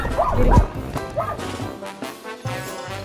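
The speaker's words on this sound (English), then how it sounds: "If that dog don't stop barking" A dog barks once or twice up close, followed by muffled knocks and rustling; no clear voices.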